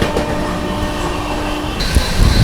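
The Howrah Rajdhani Express train from New Delhi running at high speed, a steady loud rumble of wheels on rails with a brief clatter and rising roar near the end, with no speech.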